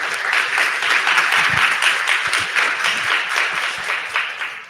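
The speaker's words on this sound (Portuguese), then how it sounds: "Palmas para o professor" A podcast workshop audience applauds a professor, a loud, full round of clapping from many people that stays steady for several seconds before easing slightly at the end.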